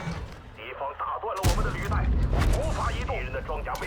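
In a tank battle video game replay, a tank cannon fires one sudden, heavy boom partway through, followed by rumbling battle noise while a voice commentates over it.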